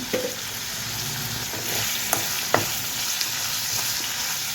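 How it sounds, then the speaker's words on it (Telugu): Dried red chili and garlic fry in hot oil with onions, a steady close sizzle broken by a few sharp clicks of the stirring spoon against the pan. "ఒక ఎండుమిర్చి, ఒక వెల్లుల్లిపాయ కూడా వేసుకొని వేయించుకుందాము"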